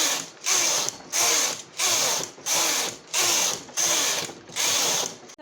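Domestic knitting machine carriage knitting plain rows of 70 stitches for a baby romper, a loud rhythmic mechanical rasp and clatter sweeping back and forth about eight times with brief pauses between passes, no talking.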